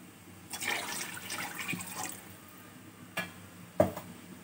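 Water from a glass is poured into a pot for cooking beef pulao, a short splashing pour followed by a couple of faint clinks and drips, with no talking.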